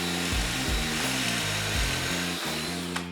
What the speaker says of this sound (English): So it'll drill holes at an angle, and then we'll use a really long bit to screw the screws in.